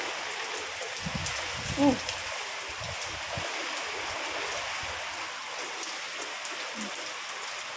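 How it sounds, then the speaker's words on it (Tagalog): Heavy rain pours steadily during a strong Baguio typhoon, a broad continuous hiss close by, with a few brief bumps and faint voices underneath. "Ulan na lang. Malakas ang ulan."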